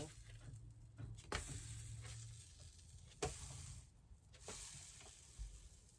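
A vegan pancake sizzles softly in a hot pan just after being flipped, a quiet steady frying hiss broken by a few sharp clicks and scrapes, with no talking.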